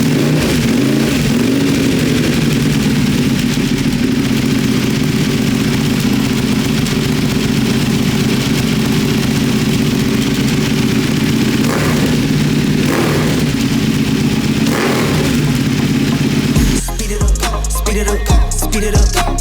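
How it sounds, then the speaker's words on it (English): A 2021 Ducati Panigale V2 fitted with a Vandemon undertail exhaust runs with a loud, close, steady engine drone, rising in a few revs before the tone changes near the end. "I used a Vandemon undertail exhaust on that as well, and check out the sound that that thing made"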